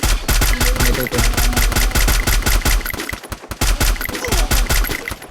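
Rapid automatic gunfire from a shooter video game, loud and continuous with dense repeated bursts and only a brief pause partway through.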